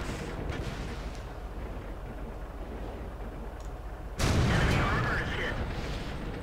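A medium tank in a tank video game fires a single loud, sharp shot partway through, with a booming blast that decays over a few seconds against steady engine and battle noise while someone talks.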